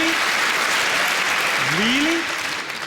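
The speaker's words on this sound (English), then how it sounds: "A round of applause on a joke about the worst thing that's ever happened?" A comedy club audience breaks into sustained applause after a joke at a stand-up show, a dense, steady wash of clapping that stays loud throughout, with a brief tonal voice sliding up in the middle.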